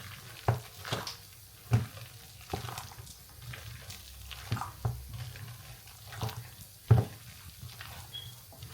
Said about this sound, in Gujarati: તમે મેં પાણી લીધું છે ઠંડુ, અને થોડું થોડું નાખું,